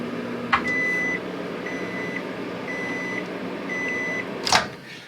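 A microwave oven in an RV hums steadily while heating a mug with hot water, a few spaced beeps ringing out, with a click near the start and a louder clunk near the end.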